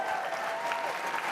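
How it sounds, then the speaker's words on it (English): Audience applause at a CPAC political conference, a steady, dense clapping from a large crowd that holds at an even level throughout without any talk over it. "Can we get a round of applause for Andrew Breitbart and Rush Limbaugh?"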